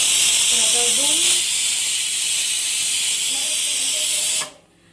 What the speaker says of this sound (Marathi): कुकर लावले बघा, कुकर टिक.